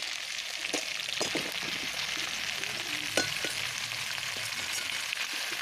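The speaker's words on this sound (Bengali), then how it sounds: "এখন আমি ফুলকপি ও আলুটা সুন্দর করে কষাতে থাকবো।" Cauliflower and potato with a green chili, ginger and garlic paste sizzle steadily in a pan, a constant hiss of frying broken by a few soft scrapes and taps as the pieces are stirred.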